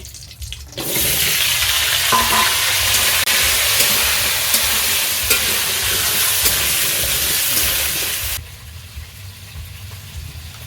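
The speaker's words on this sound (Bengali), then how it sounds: "মাছ ভাজার তেলের মধ্যেই আমি আলুগুলোকে ভেজে নেব" Potatoes drop into hot fish-frying oil and sizzle loudly for about eight seconds, a broad steady hiss that starts abruptly and cuts off sharply near the end, leaving a quieter background.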